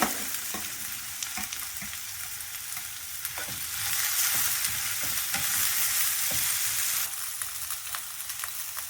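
Onion and curry leaves are sautéed in a pan, giving a continuous close sizzle with frequent stirring knocks; the hiss swells louder for a few seconds in the middle and then settles back.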